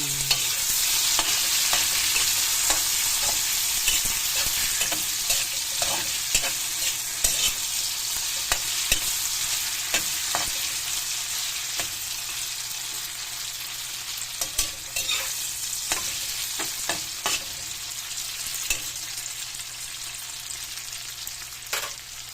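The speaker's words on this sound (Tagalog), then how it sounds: "Ipiprito ko muna ito yung aking tokwa." Tofu fries in a pan for adobong kangkong, a steady loud sizzle punctuated by frequent scraping and clacking of a utensil stirring and turning the pieces, with no talk.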